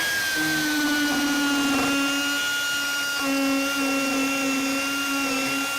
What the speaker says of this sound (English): you have to select the correct bit along with the correct crown to shave off this mandrel properly